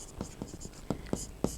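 Chalk or pen strokes on a board during a Hindi-language eighth-grade geometry lesson on quadrilaterals, a series of short scratchy marks spaced irregularly over a second and a half, close and fairly quiet.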